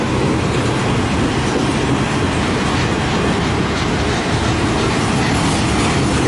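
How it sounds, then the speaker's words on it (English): A CN M385 freight train passes in Port Huron on a Friday night, a dense, steady roar of rolling railcars with faint clickety-clack from the wheels holding at a constant close loudness throughout. "Here's train number 8 for this week."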